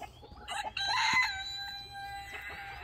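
A rooster crows loudly and close by, one long crow amid a flock of chickens clucking and a turkey, with farmyard chatter continuing afterward.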